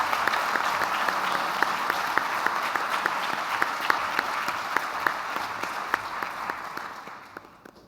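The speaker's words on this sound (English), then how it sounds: "Some applause for everybody who was awarded this year." An audience at a school awards afternoon applauds award recipients: dense, sustained clapping from a large crowd at an even level, fading out toward the end.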